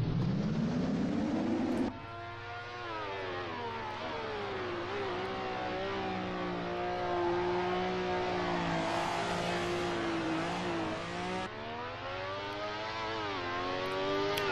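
A race car engine in the Assetto Corsa racing game revs hard through gear changes, with rising and falling harmonic whines, a loud sustained high-pitched drone and shifts audible near the start and end, with no talk.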